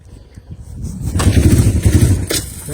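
A 1976 Yamaha XS 360 motorcycle engine cranking and trying to start: a starter churns and the engine catches into a rough, rising rumble for about a second, close by.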